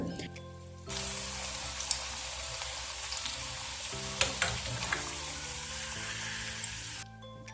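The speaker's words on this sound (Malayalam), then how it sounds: "നമ്മൾ ഓയിലൊക്കെ ചൂടാൻ ശേഷം ഈ ഒരു രീതിയിലിട്ട് പൊരിച്ചെടുക്കുന്നുണ്ട്" A snack frying in hot oil gives a steady, continuous sizzle with small pops and crackles, fairly close and even in level, stopping abruptly near the end.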